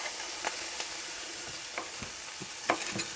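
Peppers for chilli con carne stirred and frying in a pan, a quiet low sizzle with soft scraping stirs and occasional light clinks, steady and close.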